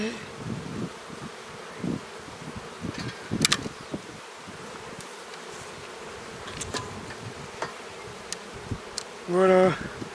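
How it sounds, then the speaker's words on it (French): Honeybees buzzing at an opened hive during a spring inspection, a steady close drone with scattered wingbeat passes and light handling noise, plus a brief tonal sound near the end. "des abeilles qui rappellent les abeilles qui seraient dehors et qui communiquent avec des odeurs"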